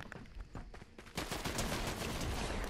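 Rapid bursts of Fortnite gunfire crackle in quick succession, sparse at first and then a dense, continuous volley in the second half, fairly quiet overall.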